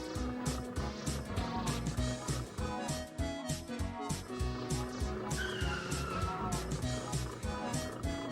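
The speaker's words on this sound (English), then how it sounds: "he drove through the winding roads that climbed hills and ran through the little town to the countryside" Car driving along winding roads over hills and through a small town, engine humming steadily with tires squealing and skidding around bends; loud, close and continuous, no voices.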